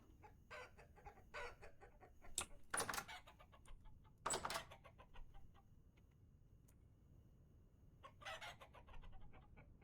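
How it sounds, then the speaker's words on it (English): Chickens cluck on a working chicken farm in the video game Vintage Story, with soft repeated clucks and a few sharper, louder squawks scattered across a quiet background. "But we do now have a working chicken farm."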